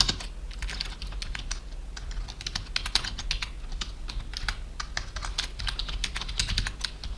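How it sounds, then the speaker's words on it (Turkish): Keys clatter in quick, uneven bursts on a computer keyboard while someone writes HTML in an editor. The tapping is close and fairly soft, with no voice over it. "H'ye basıyorum ve enter dedikten sonra şuraya da bir"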